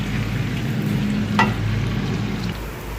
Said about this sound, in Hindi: इसमें प्याज मैंने एक छोटा सा प्याज मैंने लिया था, तो इसको हम फ्राई करते हैं पहले।